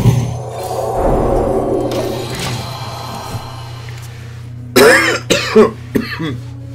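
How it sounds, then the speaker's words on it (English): A chesty cough rasps out at the start, followed by a quieter stretch and then a few more rough, breathy coughs near the end. "Bit of the old chesty cough coming on."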